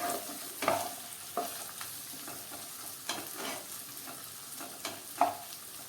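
Potato chips for a stuffed capsicum curry are stirred into a frying pan, giving a few scattered scrapes and clinks over a faint, steady sizzle, with no talking.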